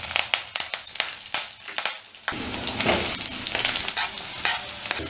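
Garlic and green chilies hitting hot oil in a pan for Indian-style chow mein, with sharp stirring clatters first and then a sudden loud, continuous sizzle up close.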